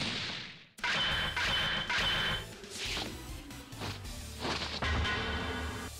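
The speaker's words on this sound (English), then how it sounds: "Those were some crazy explosions." Loud, booming explosions and crashing impacts from the fighting game Dragon Ball FighterZ burst one after another, with sharp hits and rumbling blasts filling the space.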